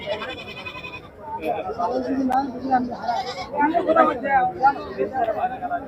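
Goats, sheep and Garole sheep bleating repeatedly amid a crowd of people chattering, a busy livestock market in Ullapara, Sirajganj, Bangladesh.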